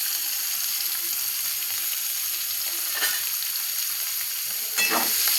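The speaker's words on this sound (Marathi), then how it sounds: "कांदा आपण 2 बारीक चिरून घेतलेले ते टाकून ते गुलाबी रंगावर परतून घेऊ" Finely chopped onion sizzles steadily in hot oil with cinnamon and bay leaf, a continuous close frying hiss with a few stirring scrapes.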